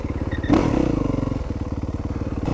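A motorcycle slowing down with the clutch pulled in at the end of a first-gear wheelie, its engine giving a loud, close, rhythmic pulsing throb that settles into a steady idle-like chug.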